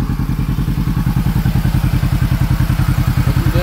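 A supercharged Kawasaki KRX 4 side-by-side with a Kraftwerks kit and stock exhausts idles loud and close, its engine pulsing in a fast, even, throbbing rhythm throughout.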